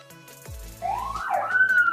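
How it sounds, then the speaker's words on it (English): An ambulance siren passing on a Boston street rises and sweeps in pitch, a clear electronic wail growing louder over about two seconds, with a short low horn blast at the start. "I live in Boston, so that is just one of the many ambulances."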